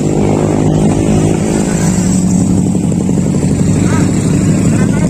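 Motorcycle engine running steadily nearby, a loud continuous buzzing drone that stays even for several seconds while people talk at a roadside bridge work site.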